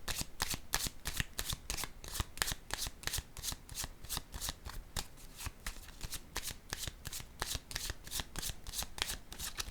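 Tarot cards being shuffled in a steady run of crisp riffling snaps, close and fairly soft, continuing without pause and with no talk over it.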